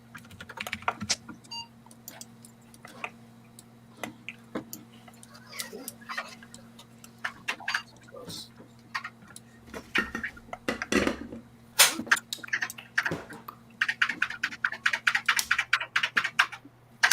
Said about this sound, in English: testing a keyboard encoder